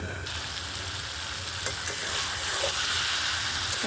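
Bottle gourd ghonto (lau ghonto) sizzles and fries in a pan while being stirred, a steady close frying hiss with soft scraping strokes from the spatula throughout.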